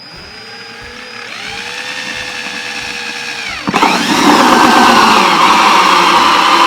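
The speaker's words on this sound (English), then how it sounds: "got that drilled out" A power drill bores into a plastic self-wicking grow bucket. Its steady motor whine rises in pitch and load, then grows louder and rougher about halfway through as the bit bites into the plastic, all close and continuous with no talk.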